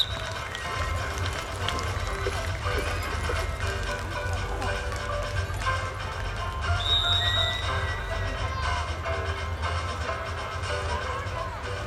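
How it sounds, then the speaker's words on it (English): Horses weave in and out between poles at a riding team demonstration, with hoofbeats and occasional whinnies under continuous amplified music and background crowd noise. "This is called horse weaving. Weaving in and out, changing leads."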